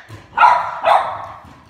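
Dogs fighting at home, with two loud, close barks in quick succession, each a harsh burst that trails off, against a quiet room.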